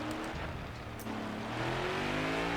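Next-gen NASCAR race cars in the game NASCAR Heat 5 draw closer, their engines rising into a steady, building drone with climbing pitch as the pack approaches; no voices.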